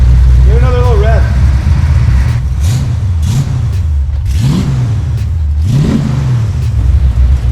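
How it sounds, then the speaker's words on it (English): A 1969 Mach 1 Mustang with a custom exhaust revs three times in quick swells over a deep idle, with people talking and shouting over it. "Give it another little rev."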